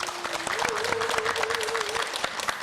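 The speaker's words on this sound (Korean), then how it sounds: "여러분 큰 박수로 맞이해 주십시오." A television studio audience claps to welcome guests onto the set, steady dense applause with a held voice tone running beneath part of it.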